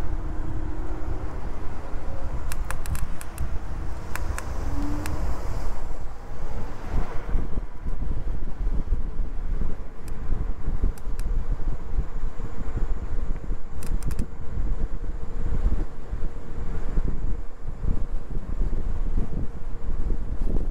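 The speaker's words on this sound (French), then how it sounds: "Il y a beaucoup de vent." Strong wind buffets the microphone continuously while riding a Dualtron 3 electric scooter, a steady loud roar with low rumble and occasional gusty bursts, no talking.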